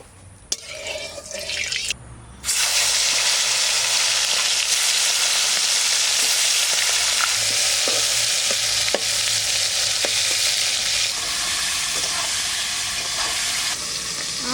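Fish frying in mustard oil in a home kitchen, a loud, steady, close hiss and sizzle that swells after a brief quieter start and carries on with faint pops and stirring, no talking.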